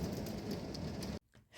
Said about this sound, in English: Every time the hail hits the window strong like that, it makes me think the window's going to break